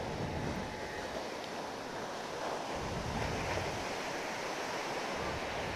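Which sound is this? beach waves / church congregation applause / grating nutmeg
beach waves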